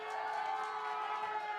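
Audience at a poetry slam in Berkeley cheering, with a steady dense crowd roar and whoops sustained throughout the short stretch, fairly distant and uniform.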